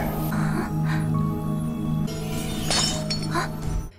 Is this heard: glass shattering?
yes